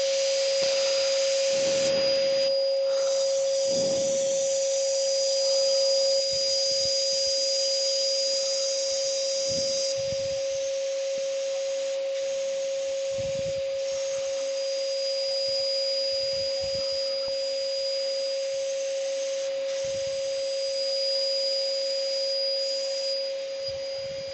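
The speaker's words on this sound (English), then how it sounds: "just blow it through to clean all the crud out of the gun" A paint spray gun being blown through with compressed air to clean out old paint, giving a steady, loud hiss with a constant high whine that runs unbroken for the whole stretch, with no talk.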